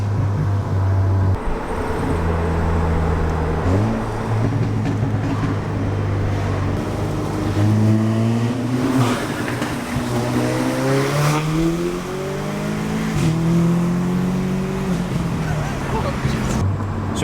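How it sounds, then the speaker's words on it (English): A Stage 2 EQT-tuned Audi S3 cruising in sport mode with exhaust valves open, its loud, droning engine note rising and falling through gears with a rumbling burble close by. "if I open the valves, you can hear the pops, as they call it, the burble tune"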